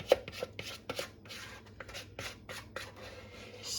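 A utensil scraping cake batter for a piña colada cake out of a bowl into a pan, a series of short, soft scrapes and taps in an irregular rhythm, close and fairly quiet, with no talk.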